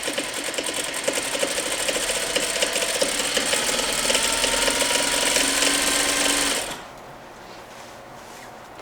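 Sewing machine stitching cording with a cording foot, a fast continuous mechanical whir and needle clatter for about six and a half seconds before stopping abruptly, leaving quiet room tone.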